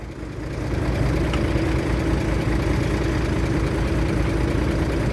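A small tractor engine in a video game drones steadily at idle, a low rumbling hum that rises in the first second and then holds constant and fairly loud, with no voices.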